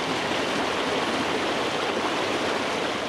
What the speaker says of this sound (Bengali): পানির তীব্র স্রোতে তলিয়ে যাচ্ছে বসত বাড়ি প্রধান সড়ক সহ গ্রামীণ রাস্তাঘাট